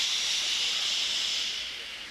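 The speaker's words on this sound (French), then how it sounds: "« Je suis une très belle locomotive, » pensa-t-il en crachant sa vapeur." Cartoon steam locomotive letting off a loud, steady hiss of steam that fades slightly at the end, heard alone without talk.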